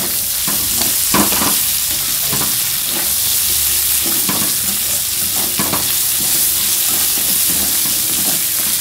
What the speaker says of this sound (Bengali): একটা পেঁয়াজ দেখো কুচি কুচি করে একটু তেলের মধ্যে ভাজা করে নিচ্ছি